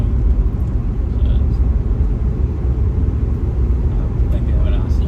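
Steady low rumble of road noise inside a moving newer car, a continuous broadband roar heavy in the lows that holds an even level throughout with no distinct events.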